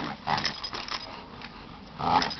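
A dog makes short vocal sounds, a couple of brief barks or whines near the start and end, close by, with quiet outdoor background between them.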